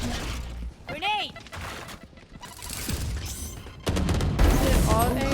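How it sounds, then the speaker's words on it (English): A grenade blast and bursts of gunfire in a first-person shooter game, with booming impacts and rapid shots over the match's general chatter and effects, with people talking throughout. "Grenade kill."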